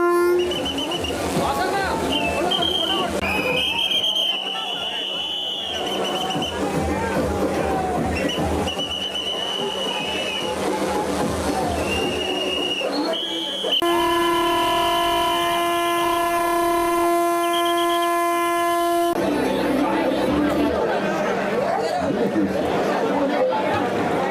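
At a station in Eluru, a newly launched Vande Bharat train sounds its loud sustained horn for several seconds amid a noisy crowd and announcements, with rail rumble throughout.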